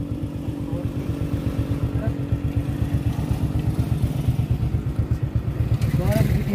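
A motorcycle engine putters close by in a fast, even low-pitched beat, with people talking over it throughout.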